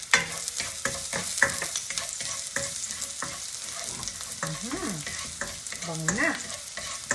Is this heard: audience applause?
no